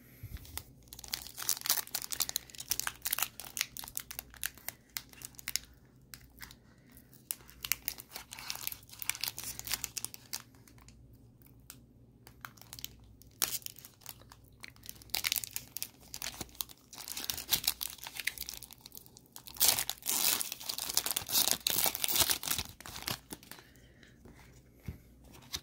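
Crinkly foil wrapper of a Pokémon TCG Scarlet/Violet booster pack is crumpled and torn open up close, with soft, continuous crackling and rustling throughout and faint soft-spoken murmurs at moments.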